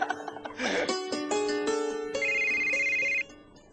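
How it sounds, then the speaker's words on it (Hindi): A phone ringtone plays a bright, tonal electronic melody for about two and a half seconds, clear and close, following a brief soft noise at the start. "लगता है मेरा ही फोन आया होगा।"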